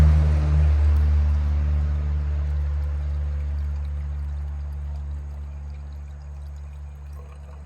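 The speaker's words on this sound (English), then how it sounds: "Now open it up and go ahead and pour this 2-part formula in." A two-part formula pours steadily into the radiator overflow tank of a 2006 Land Rover Range Rover. The liquid streams in one unbroken run that slowly tapers off, close and alone.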